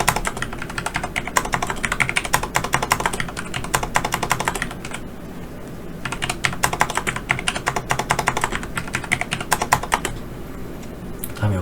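Fast, uneven typing on a computer keyboard while entering data into an Excel spreadsheet, close and clattering with brief pauses between bursts of keystrokes.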